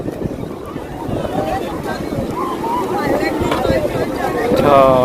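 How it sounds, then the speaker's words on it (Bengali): Strong wind at Bakkhali beach buffets the microphone with rough, gusty roaring that builds louder toward the end, under a voice talking. "আর বেশ হাওয়া দিচ্ছে বেশ হাওয়া দিচ্ছে"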